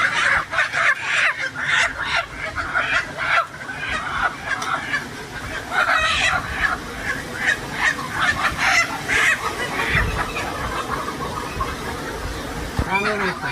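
Chickens on a farm squawk and cluck loudly in agitated bursts as they are caught one by one for bird flu H9 vaccination, with people talking over the flapping commotion.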